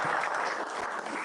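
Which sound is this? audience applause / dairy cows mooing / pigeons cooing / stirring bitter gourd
audience applause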